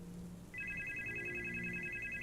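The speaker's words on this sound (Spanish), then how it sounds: "cuando en ese momento sonó mi teléfono." A mobile phone starts ringing half a second in, a steady electronic ringtone held close over a low rumbling background.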